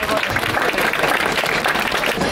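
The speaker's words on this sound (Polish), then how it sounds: "Wielkie brawa dla niego." Dense applause from a crowd at an outdoor harvest festival in Dębowiec, Poland, fills the whole moment, steady and loud without breaks.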